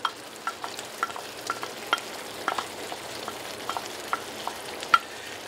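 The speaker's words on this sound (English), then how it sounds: "now let's put our sauteed onion and garlics that are translucent" Sautéed onion and garlic stirred into a pot of fresh tomato sauce over high heat, a steady soft sizzle with regular light scraping taps of the spoon, close and with no talking.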